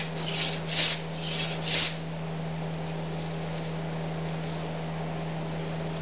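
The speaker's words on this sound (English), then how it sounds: "It'll take a nice light shaving." A small block plane with a freshly honed blade draws light shavings off wood, giving a few soft, rasping strokes early on and then a steady, faint hiss over a low hum.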